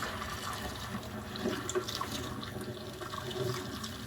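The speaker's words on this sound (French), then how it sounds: "Nous allons les égoutter et les plonger dans l'eau froide." Cooked langoustines are drained and plunged into cold water in a kitchen sink, making a steady, moderately loud sloshing and splashing with bubbling, close by and without talk.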